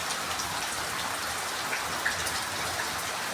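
Steady rain falling around a house, a dense hiss of drops on surfaces with a few close splashes standing out, continuous and fairly loud with no voices.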